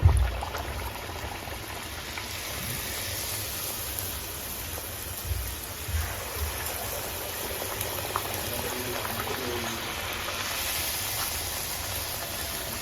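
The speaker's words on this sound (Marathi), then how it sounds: "तर पुऱ्या तळताना हे सुरुवातीला तेल तापलेलंच पाहिजे तर आपण त्यामध्ये आता ही पुरी सोडून घेऊ" Puri frying in hot oil in a kadhai, a dense continuous bubbling sizzle with crackling spatters, steady and close throughout, with no speech.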